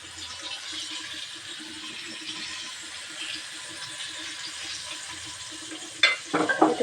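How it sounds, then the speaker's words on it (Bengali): Battered chicken fry pieces frying in oil, producing a soft, continuous sizzle under a low background, followed by a sudden louder splatter and clatter of stirring near the end. "দেখুন এগুলো ভাজা হয়ে যাচ্ছে"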